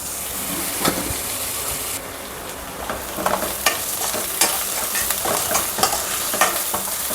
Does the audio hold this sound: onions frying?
yes